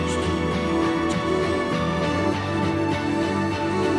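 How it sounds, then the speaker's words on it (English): Layered synths and guitars from an electronic music production play together as a dense, full stack of sustained chords and rhythmic textures, steady and loud with no talking. "Altogether, the synths and guitars sound like this."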